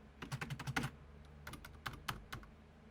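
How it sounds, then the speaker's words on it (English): Fingers tap on a computer keyboard in quick bursts of clicky keystrokes, close and distinct, with short pauses between clusters and no talking. "My keyboard has buttons, I can type on it"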